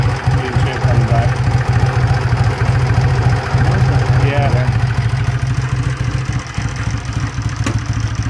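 A hot 1964 Triumph 3TA 350cc motorcycle engine idles with a steady low, even thrum and light mechanical ticking, close and constant, while people talk nearby.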